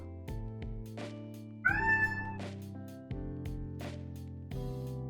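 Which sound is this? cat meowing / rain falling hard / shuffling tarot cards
cat meowing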